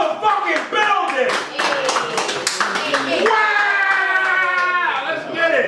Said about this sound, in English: Give me a huge can round of applause, Justbeingtrey in the motherfucking building